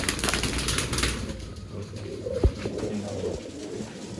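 Old line pigeons in a loft give low cooing calls amid rustling and a soft background murmur, with one sharp thump partway through, heard fairly close.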